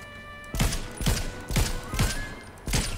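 Gunshots in Fortnite, five heavy booming shots spaced about half a second apart, each with a short rumbling tail, over faint background music.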